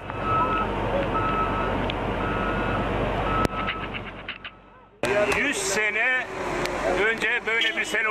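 Construction machinery works at a flood rescue scene in Ordu, Turkey: a truck-like engine drones with steady reversing beeps, then after a brief drop someone speaks over the continuing machine noise.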